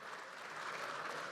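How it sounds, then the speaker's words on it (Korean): Applause from lawmakers in a national assembly chamber after a presidential speech, a steady dense clapping that holds at moderate loudness throughout, with no voices. "박수가 이어졌고"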